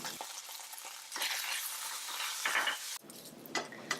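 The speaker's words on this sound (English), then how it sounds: "Break up any huge lumps by pressing it with the back side of the spatula." Leftover rice with oyster sauce and pepper stir-fried in a pan, a spatula scraping and tossing over steady sizzling, with clinks of metal on the pan and no talking.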